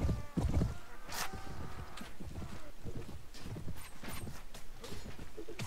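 Cavalry horses in the video game A Clash Of Kings make a rapid, continuous clatter of hooves, close and busy, with a short neigh-like sound near the start.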